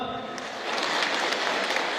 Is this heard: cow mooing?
no